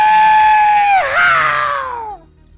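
A person's voice imitating the scream of the bungee zombie from Plants vs Zombies 2, one loud sustained wail that wobbles in pitch midway and then slides down before cutting off, close and alone.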